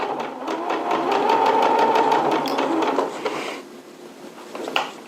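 A sewing machine runs slowly through stretchy hoodie fabric, its needle ticking in a steady rapid rhythm for about three seconds before easing off into quieter handling noises.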